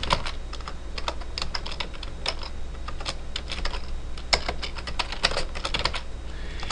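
Fingers type on a computer keyboard in quick, irregular bursts of close, crisp key clicks over a low steady hum, with short pauses between runs of keystrokes and no speech.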